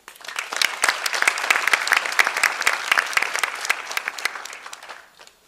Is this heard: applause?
yes